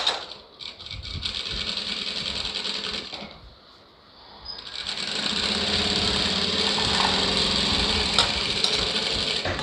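A sewing machine stitches a lined blouse in two long, steady whirring runs, close and even, broken by a brief near-silent pause in the middle before the needle resumes at full speed.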